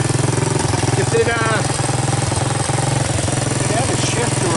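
A trashed, abandoned Honda TRX 200 ATV engine runs steadily at close range, a loud, even idle with a constant low throb and mechanical clatter throughout.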